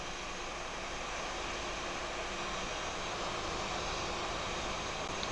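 A simulated Airbus A320 engine spools up in a flight simulator at Frankfurt airport, a steady broadband jet roar and whine holding loud and even throughout with no talk.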